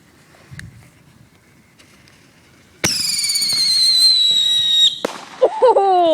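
Artillery shell fireworks at a family picnic: a sharp blast bursts out and then a long, loud whistling crackle, followed by a second burst and more squealing tones, heard close and loud.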